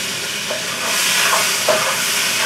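Pancakes frying in a pan, a soft continuous sizzle with a few faint scraping or stirring touches and no voices.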